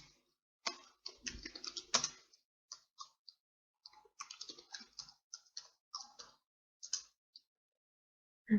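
Close, clear typing on a computer keyboard as a git status command is entered: irregular bursts of crisp key clicks separated by short pauses, no voices.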